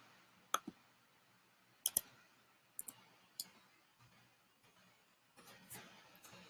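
Mouse or keyboard clicks on a computer while a code is entered, sharp isolated taps in small pairs and singles spread over several seconds, quiet room with no talking.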